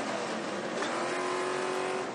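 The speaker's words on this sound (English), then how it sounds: "Just listen to those trucks eating those big V8 motors just wide open." Stadium Super Trucks with big V8 engines race flat out, producing a continuous loud, droning roar with a steady engine whine throughout and no voices.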